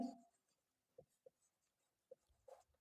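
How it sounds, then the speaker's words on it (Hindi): Pen or chalk strokes while physics theory is written by hand, a few short, faint scratches spaced apart in near silence, with a brief louder scrape at the start and end. "सबसे पहले इसकी थ्योरी लिखते हैं"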